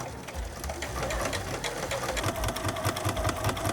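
A sewing machine stitches a pant hem, its rapid, even mechanical chatter running close and steady throughout, with a low motor hum beneath.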